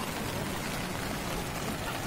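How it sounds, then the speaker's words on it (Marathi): Rain falls at Uluwatu, a Hindu temple on a big hill in Bali, as a steady, even hiss of drops that holds unchanged for the whole stretch, with no voices over it. "पाऊस आहे, पाऊस"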